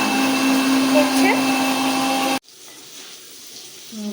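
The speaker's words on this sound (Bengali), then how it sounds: "মা মিক্সিতে মশলাটা করছে।" A kitchen mixer grinder grinds spices. Its loud, whining motor whirs steadily for about two seconds, then cuts off abruptly, leaving a quiet room with faint small sounds.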